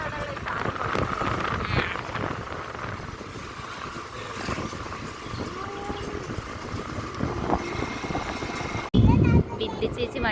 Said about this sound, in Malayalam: ഞങ്ങൾ സ്കൂട്ടിയിൽ പറക്കുകയാണ് ഗൈസ്